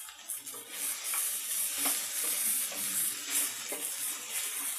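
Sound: stirring and cooking sago khichdi in a pan

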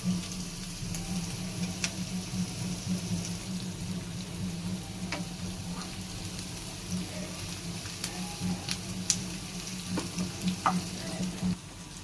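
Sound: frying in a pan while cooking mint rice

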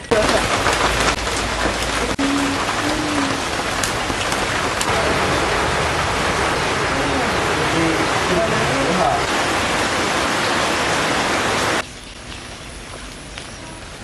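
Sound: rain falling

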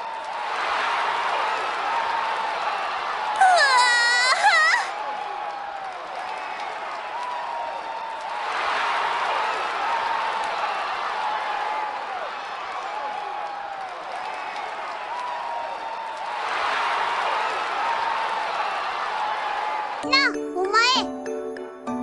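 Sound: crowd of women cheering, from video game

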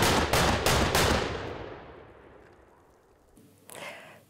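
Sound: Böllerschützen firing ceremonial salute guns

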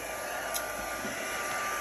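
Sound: hair dryer drying an art journal page

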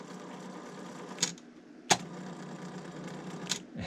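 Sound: TEAC CX-650R cassette deck mechanism running noisily

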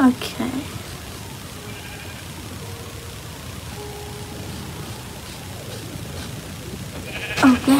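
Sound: sheep bleating in Minecraft video game

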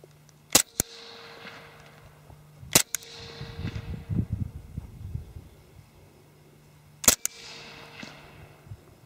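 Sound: suppressed HK Mark 23 pistol firing 230 grain .45 rounds

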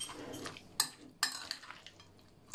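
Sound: stirring salad with mayonnaise in a bowl

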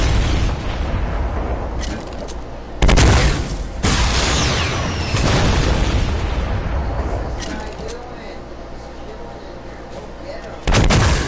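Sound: rocket explosions in Fortnite video game

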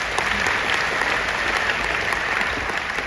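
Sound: audience applause for the speakers

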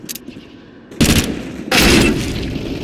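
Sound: gunfire in the video game Counter-Strike

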